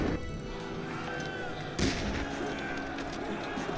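Gunfire and artillery booms in a World War I video game set on the 1914 Western Front, with Central Powers soldiers: a steady rumbling barrage with one sharper, louder blast partway through.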